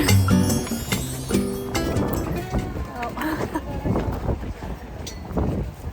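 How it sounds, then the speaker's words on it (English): Strong wind buffets the microphone at an outdoor market with a constant roaring rumble while someone talks over it. "it is so windy today"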